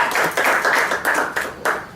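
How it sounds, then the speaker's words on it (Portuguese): Church congregation gathered for a Portuguese-language worship service gives a short round of applause, close rhythmic clapping in bursts over a couple of seconds. "Dê uma salva de palmas."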